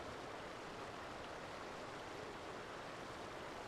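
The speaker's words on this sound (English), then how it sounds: "I can hear some water noises behind them" Steady broadband rush of running water, like a small fountain, sits close behind a player's microphone during an online Final Fantasy XIV session, continuous and even throughout with no voices.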